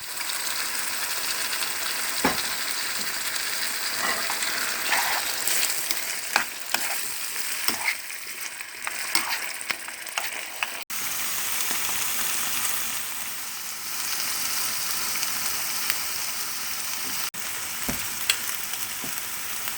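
Vegetables fry with tomato paste for a spaghetti sauce, giving a continuous close sizzle broken by irregular stirring scrapes and clicks of a utensil against the pan.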